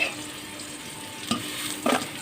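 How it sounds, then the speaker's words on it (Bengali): Bitter gourd frying in oil in a home kitchen pan, a soft steady sizzle with a couple of brief stirring scrapes, close and fairly quiet without speech. "করলাগুলো দিয়ে দিই এগুলো হয়ে গেছে এবার তুলে নেব"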